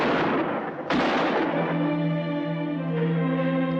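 Gunfire in the 1958 film The Brain Eaters: one sharp, loud report bursts out about a second in and rings off into a sustained tonal ring, following a dense rumbling stretch.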